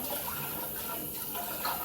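Cold water runs steadily from a household tap, a close, continuous splashing hiss with no voices over it.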